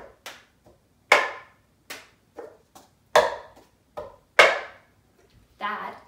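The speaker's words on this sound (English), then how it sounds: "That is the rhythm pattern for the cup song." The cup song rhythm pattern is played with a cup tapped and slapped against a surface and hands clapping, making a brisk sequence of sharp claps and knocks, ending with a cup rattle.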